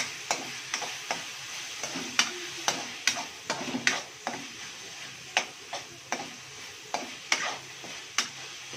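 Tomatoes fry in a pan of liver and onion masala under a soft sizzle while a spatula scrapes and taps in a steady rhythm, about two sharp clicks a second, close and fairly quiet.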